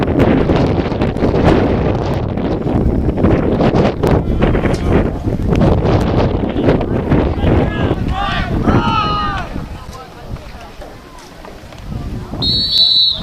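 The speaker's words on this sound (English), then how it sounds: "the wind is now picking up" Wind gusting across an outdoor freshman football field, heavy buffeting rumble on the microphone with talk over it, easing briefly near the end before a whistle-like tone.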